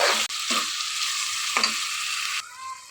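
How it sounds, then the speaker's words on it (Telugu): Vegetables and cumin seeds sizzle loudly in a hot pan, a steady close frying hiss broken by a few stirring scrapes, then the sizzle drops sharply near the end. "ఇందులో కొద్దిగా జీలకర్ర కూడా వేసుకుని ఇవన్నీ బాగా కుక్ చేసుకోవాలి."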